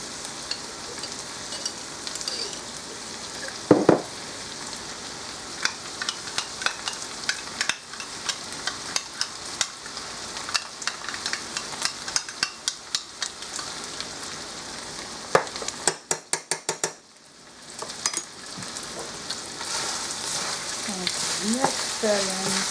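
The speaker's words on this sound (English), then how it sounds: "now that the meat is cooking, I'm going to add in 3/4 cup of sofrito" Meat fries with sofrito in a pan, sizzling steadily under repeated clicking and scraping stirs, close and fairly loud, with a short clattering burst partway through.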